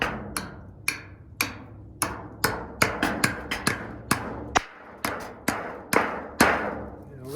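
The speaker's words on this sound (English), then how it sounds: "Got these nice long nails, and of course my trusty hammer." A hammer drives long nails into wood with about sixteen sharp, ringing strikes at an uneven, steady pace, each blow loud and close with a short resonant decay.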